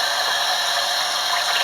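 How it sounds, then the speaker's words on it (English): Steady running water pours from a tap over raw pork chops being rinsed, a continuous close, even hiss of flowing liquid with no pauses. "And I rinse off my pork chops here."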